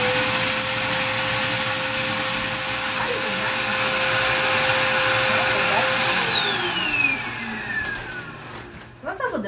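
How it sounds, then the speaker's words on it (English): A household vacuum cleaner runs with a steady, loud motor whine, then audibly winds down and falls in pitch as it shuts itself off near the end. "What's up with the vacuum cleaner?"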